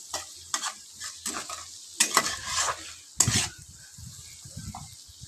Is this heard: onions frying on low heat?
yes